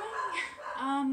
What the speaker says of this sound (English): That's my dog barking at something.